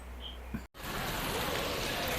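Steady rain hisses in a dense, even wash after a brief cut, continuous and moderately loud with no clear voices.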